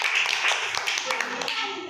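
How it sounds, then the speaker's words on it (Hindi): Children clap their hands during a group spelling game: a quick, uneven burst of claps, close by and mixed with voices talking over them. "हाँ सही है, तालियां बजाओ"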